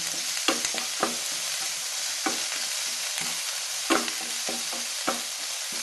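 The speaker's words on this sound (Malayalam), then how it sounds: "ഇത് നന്നായിട്ട് വഴറ്റിയെടുക്കണം." Cluster beans sauté in coconut oil in a non-stick pan, with a constant bright sizzle and a series of sharp spatula scrapes and taps at irregular intervals, and no speech.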